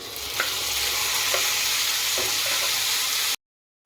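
Tomatoes hit softened onions in a hot pan for an Andhra-style home meal, giving a loud, steady sizzle and frying hiss with a few soft stirring scrapes, cutting off abruptly near the end.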